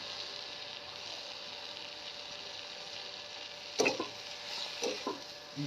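Green chillies and cumin sautéing in a pan over a wood-fired stove, a steady soft sizzle throughout with a few louder clatters of stirring near the end; no one speaks.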